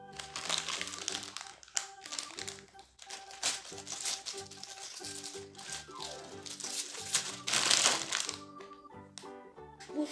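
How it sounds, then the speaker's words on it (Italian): Crinkling of a foil collectible animal-figure card packet being torn open, with scattered crackly bursts beneath loud, continuous background music. "Apriamo un'altra bustina."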